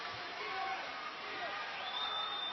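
A crowd at a fighting tournament cheers and roars steadily throughout, a dense wash of voices with scattered whoops, while a commentator talks over it.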